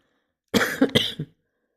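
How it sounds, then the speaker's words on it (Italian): A single short fit of coughing, a few quick harsh bursts close to the listener, then silence. "Mi è partito un colpo di tosse, scusate."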